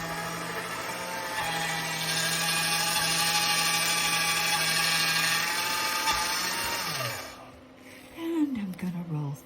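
A motorized pasta machine whirs steadily as polymer clay sandwiched between sponges is rolled through, a loud, even mechanical hum lasting several seconds before stopping, with a voice speaking afterward.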